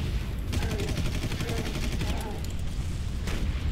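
Rapid automatic gunfire from the video game Far Cry rattles on without a break, dense and loud over a heavy low rumble, with a sharper burst of shots near the end.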